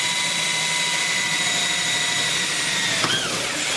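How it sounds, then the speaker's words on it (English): A power drill bores through the trunk of a C8 Corvette to mount a Z06 wing, a steady high whine running throughout with a brief pitch dip near the end as the bit breaks through. "Go ahead and drill through."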